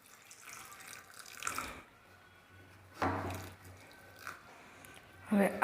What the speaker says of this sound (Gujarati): અને પાણી એમાં એડ કરી દઈએ।